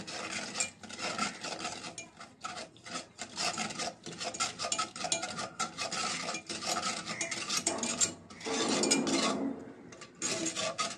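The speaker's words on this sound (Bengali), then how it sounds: "এই সবগুলো উপকরণ এখন আমি মিশিয়ে নিব।" Sugar and other khir pitha ingredients being mixed in a bowl: continuous close scraping and rubbing strokes in an uneven rhythm, with a brief louder stir near the end.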